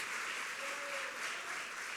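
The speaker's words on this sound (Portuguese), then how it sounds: "Você pode aplaudir esse Deus tão maravilhoso?" A church congregation applauds during a sermon, a steady, faint wash of many hands clapping heard from a distance for the full stretch, with no voices over it.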